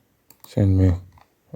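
Mouse clicks on an email send button: a few sharp, quiet clicks spaced apart, with a short humming voiced sound between them.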